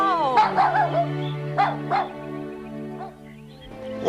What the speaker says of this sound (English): Jonah's little dog ate all our food